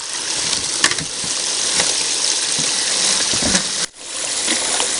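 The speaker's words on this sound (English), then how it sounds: "And I can about guarantee we're the only people in Montana right now running a sluice box." Water runs steadily through a sluice box outdoors in freezing Montana weather, making a loud, continuous rushing gush. Near the end there is a brief dip, and then the flow resumes.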